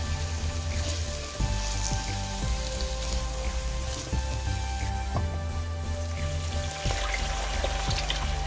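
Onions and garlic frying in olive oil, a steady close sizzle with occasional faint clinks, no talking.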